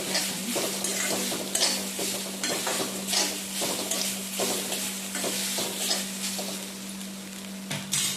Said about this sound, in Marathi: खोबरा आणि मिरची वाटलेली आहे ती टाकायची थोडंसं हलवून घ्यायचं